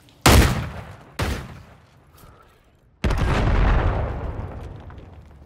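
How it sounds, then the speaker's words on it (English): Explosions in a search-and-destroy video game match on the Favela map: two sharp, loud booms about a second apart, then a third heavy blast that rumbles and sustains for over two seconds before fading. "What a bomb."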